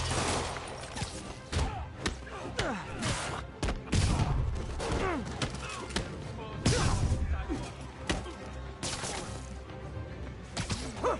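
Gunfire from criminals shooting at Spider-Man in a Spider-Man video game comes as repeated sharp bursts of shots. Thumps and crashes are mixed in, and the whole scene runs busy and loud from start to finish.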